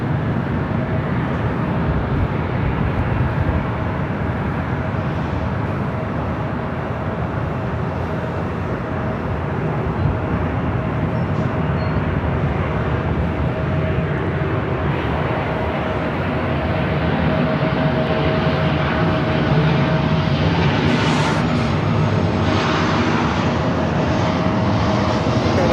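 An Airbus A380 arriving from Dubai approaches Los Angeles International on the north side, a loud, sustained four-engine jet roar with a deep rumble and a steady whine that persists throughout, rising slightly later on.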